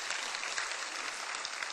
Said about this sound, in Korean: 이럴 때 박수 한번 쳐야지